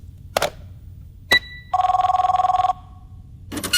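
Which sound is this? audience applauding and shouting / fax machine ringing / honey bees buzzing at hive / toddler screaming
fax machine ringing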